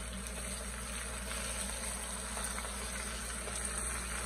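Buttermilk southern fried chicken sizzles in hot oil, a steady, dense crackling hiss that holds evenly and moderately loud throughout.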